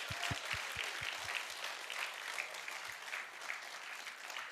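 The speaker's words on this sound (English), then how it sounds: "let's clap our hands as loud as possible." An audience at an annual business meet claps hands together in sustained, dense applause, a steady roar of many clappers with a few low thumps near the start, heard from a moderate distance.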